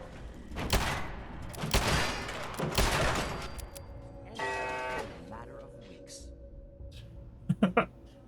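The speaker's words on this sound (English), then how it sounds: "I'm shooting on sight in here." Scattered gunshots and bursts from Fallout 4 combat against raiders, a few sharp cracks spread across the stretch and a quick cluster of shots near the end, with a voice talking over part of it.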